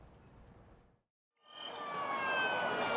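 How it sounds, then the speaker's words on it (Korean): Fire truck sirens wail during a civil defense drill as a convoy of six engines travels a cleared city road, rising in after a brief silence and growing louder and closer. "소방차가 지나는 동안 사이렌 소리"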